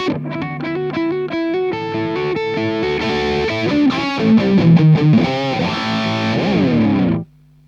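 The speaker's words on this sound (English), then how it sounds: "And with the classic distortion Rat model." Electric guitar played through the classic Rat distortion model on a Line 6 M9 effects unit: a gritty, heavily driven riff of choppy chords and single notes that rings out, then cuts off abruptly near the end.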